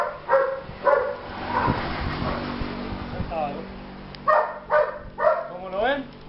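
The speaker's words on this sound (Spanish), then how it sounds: "es un perro muy bien hecho en agresividad" An aggressive dog barks during basic dog training: short, forceful barks in clusters, a pair at the start and a quicker run of four near the end, with a muffled, noisy stretch in between.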